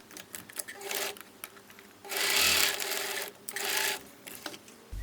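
A sewing machine stitches a seam on a jersey top, with short bursts of whirring stitching followed by two longer, louder runs, all close and steady, with brief pauses between them.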